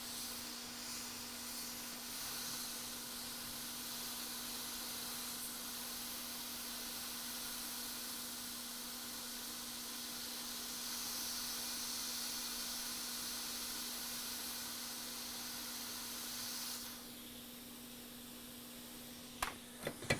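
A hot air rework station pushes a steady, soft hiss through a narrow nozzle aimed at a single chip on a Nintendo Switch board, with a faint constant tone underneath and a few small clicks near the end.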